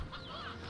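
Chickens cluck in the video game Slime Rancher 2, a brief, faint, busy fowl chatter over a low hum.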